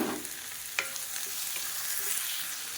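Chopped tomatoes sautéing in a hot pan for chutney: a constant close sizzle with a couple of brief stirring clinks and scrapes, steady throughout and without talk.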